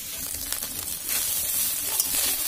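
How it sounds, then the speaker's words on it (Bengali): Garlic and dried fish frying together in a little oil, a steady close sizzle and hiss with faint stirring, no talk. "অল্প তেল দিয়ে রসুন আর শুটকি একসাথে দিয়ে দিলাম"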